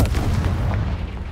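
A Confringo fire-blast from Hogwarts Legacy erupts as one heavy, booming blast with a low rumble that fades over about a second.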